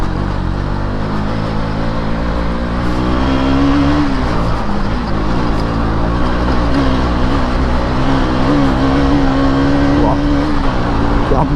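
A car engine revs loudly and steadily as it accelerates, the pitch climbing and dropping between gear changes, heard close up from inside the vehicle.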